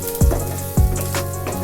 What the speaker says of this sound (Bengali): খুব হালকাভাবে ভাজবেন যাতে মশলাটা মানে পেঁয়াজ আদা রসুন যাতে পুড়ে না যায়